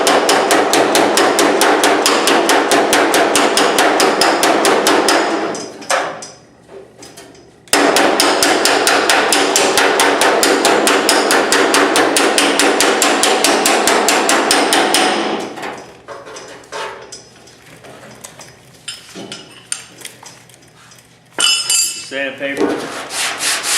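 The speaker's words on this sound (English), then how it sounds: "I'm doing hammer on dolly. I got hammer on and hammer off." Hammer-on-dolly panel beating on a Camaro's steel car body rings out as rapid, loud, evenly spaced metallic blows in long bursts, with pauses and scattered lighter taps between runs.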